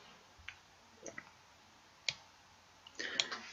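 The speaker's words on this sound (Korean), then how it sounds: "그리고 OK 버튼 눌러서 환경을 저장하고 창을 종료합니다." A computer mouse clicking the OK button in a software settings window: a few sparse, sharp, close clicks separated by quiet gaps, with a faint rattle of further clicks near the end.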